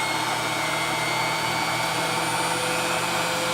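A blender runs continuously with its lid on while blending soup, giving a loud, steady motor whine that holds without pause.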